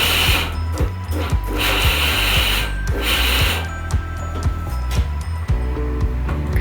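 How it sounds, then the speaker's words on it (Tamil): A blender jar runs on roasted health mix powder, a loud, steady motor whir with a rattling, grinding texture that stays continuous throughout. "இதே பிளண்டர் ஜாரில் நம்ம ட்ரை ரோஸ்ட் பண்ணி எடுத்து வச்சுருக்கிற இந்த சத்து மாவு பவுடரை சேர்த்துக்கோங்க."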